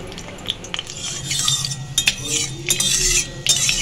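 A utensil scrapes and clinks against a kadai while oil with dried red chillies and panch phoron is stirred, irregular metallic taps close up over a faint sizzle.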